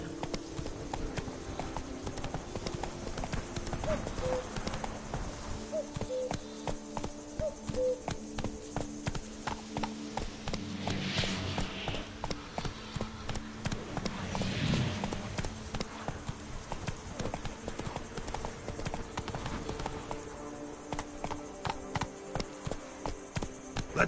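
A horse gallops at a steady, rapid clip-clop in The Witcher video game, the hoofbeats close and continuous for over twenty seconds, with a faint call or two partway through and no talk over them.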